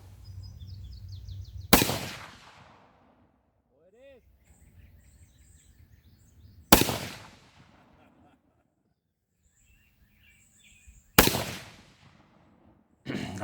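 Three sharp 7mm-08 rifle shots ring out at an outdoor shooting range, each a loud crack with a decaying echo, spaced several seconds apart, with faint birdsong and quiet background between them.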